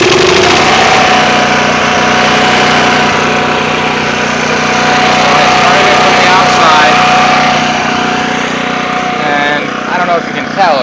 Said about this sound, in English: Now on this generator, I can start it outside or I can start it inside.